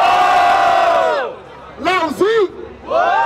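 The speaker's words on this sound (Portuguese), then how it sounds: "Barulho pras rimas do Leozinho" A crowd at a rap battle final roars and whoops loudly, the cheering swelling in bursts with shouted cries rising and falling over about three seconds, close and energetic.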